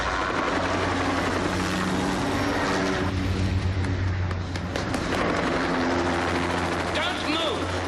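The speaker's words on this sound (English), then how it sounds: "That's a helicopter." A helicopter flies overhead with a steady, loud rotor drone and engine roar that persists through the whole stretch, with voices shouting beneath it.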